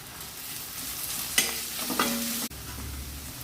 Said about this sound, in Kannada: ಈಗ ಇಲ್ಲಿ ಬೆಳ್ಳುಳ್ಳಿನ ಹಾಕ್ಕೊಳ್ತೀನಿ ಕರ್ಬೇವು ಸೊಪ್ಪನ್ನು ಜೊತೆಗೇನೆ ಹಾಕ್ಕೊಳ್ತೀನಿ